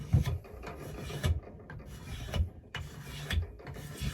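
A wooden axe handle being rasped smooth to remove scratches, with firm rhythmic strokes about a second apart, four passes close and clear with no talking.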